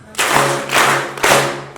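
Members of a congregation at Christmas Eve Mass clap in unison three times, each burst sharp and evenly spaced, loud and near.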